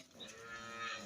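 Short, fairly faint lowing from a Holstein Friesian dairy cow in a farm shed in Dinajpur, Bangladesh. The single steady call rises slightly near its end against a hazy background, with no voices.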